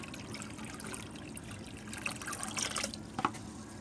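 Water trickles and splashes steadily into a lotus tank, with a few brief louder gurgling spurts near the end.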